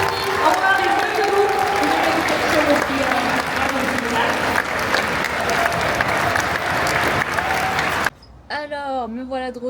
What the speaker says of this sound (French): on fait un tonnerre d'applaudissements